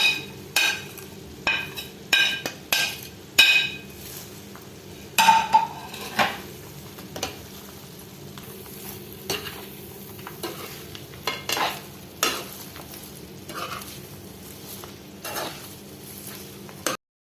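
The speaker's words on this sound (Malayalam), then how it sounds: "ഇനി ഇതിലേക്ക് നമ്മൾ ഫ്രൈ ചെയ്ത് വെച്ചിരിക്കുന്ന മീൻ നന്നായിട്ടൊന്ന് ഇളക്കിയെടുക്കണം" Fried anchovies being stirred in a pan while making pickle, with a run of scraping spoon strokes and clinks against the metal, a faint sizzle underneath, and no talking.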